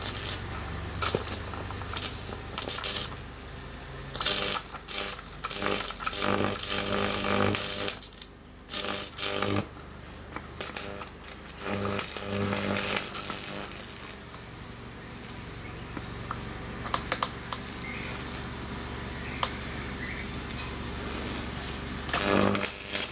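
Beater mixer motor switched on and running: a rough, buzzing drone with uneven chattering surges and brief dips, steady and fairly close throughout with no talk.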